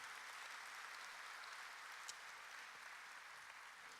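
An audience at a Korean world mission conference evening session gives sustained applause, the clapping even and continuous but quiet and distant throughout.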